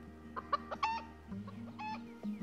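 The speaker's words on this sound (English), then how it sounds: "They updated the chickens, didn't they?" A rooster in the video game Star Stable, at a ranch, gives a run of short, sharp clucks and calls close by over a low, steady hum, with no talking.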